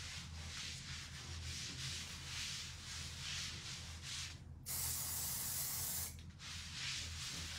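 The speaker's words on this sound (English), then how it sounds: "I just sprayed my mitt and I'm just rubbing it in" Aerosol self-tanner sprayed onto a tanning mitt, a steady close hiss bursting louder for about a second and a half amid softer rubbing and brushing sounds.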